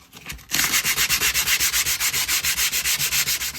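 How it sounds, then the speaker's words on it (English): MDF board is buffed with sandpaper in quick, even back-and-forth strokes, about six per second, close and dry. The steady rhythmic scratching runs throughout. "First, a quick buff with the sandpaper."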